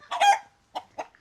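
Chickens in a tribal forest village with farm plots and dogs around give a short burst of clucking followed by two brief clucks, fairly close and alone.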